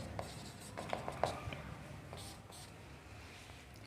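Faint chalk or marker strokes on a board as a math proof is written, soft scratchy taps and rubs in an irregular rhythm against a quiet background.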